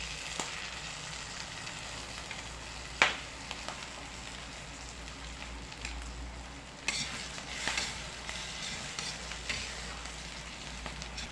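Oyster sauce hits a hot pan of frying vegetables, giving a steady close sizzle and crackle. A sharp clatter comes early, and then the frying runs on with small stirring knocks and no talk.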